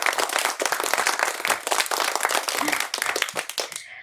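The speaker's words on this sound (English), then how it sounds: "let's give a big round of applause and welcome Gowri." Lively round of applause for a guest being welcomed onto a yoga podcast, dense clapping from a small audience that stays steady for about four seconds before stopping abruptly.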